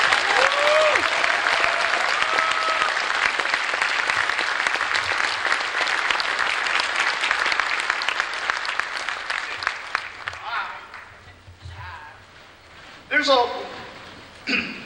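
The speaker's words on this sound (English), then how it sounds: "One last round of applause here for them," Convention crowd at a closing ceremony breaks into loud, sustained applause that gradually thins and fades toward the end, with some voices and a whistle-like tone early on.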